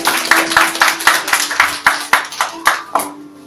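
Inside a church, a congregation claps in a quick steady rhythm of sharp hand strikes, a dozen or so close bursts that fade out at the end; no clear cheering comes through.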